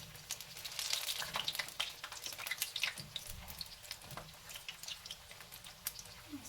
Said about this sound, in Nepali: यसरी अझै पल्टा गरेर फ्राई गर्ने।